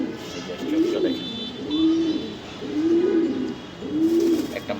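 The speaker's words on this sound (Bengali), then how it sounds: "একটা মাদি, খুব এক্সক্লুসিভ কবুতর।" A female racing pigeon coos close by in four evenly spaced, low, rolling calls about a second apart, with faint background hiss and no talking.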